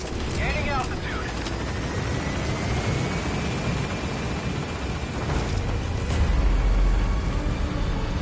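Helicopter lifting off in Metal Gear Solid V: The Phantom Pain, a steady rotor drone swelling slightly louder toward the end, with radio chatter over it.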